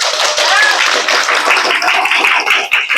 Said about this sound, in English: now we have clap hand for our friend